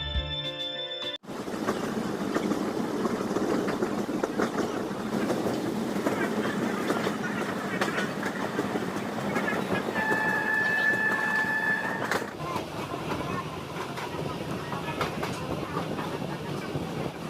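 Passenger train pulling into Medinipur railway station on a Purulia to Howrah run, a steady loud rumble of wagons with clickety-clack and a brief high wheel squeal partway through, heard from on board with no talk.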